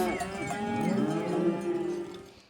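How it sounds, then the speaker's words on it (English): Cattle lowing together during a rodeo cattle drive, several overlapping moos in a steady, full chorus that swells and then fades, with a faint hint of cowbell and no talking. "Cue the cattle drive."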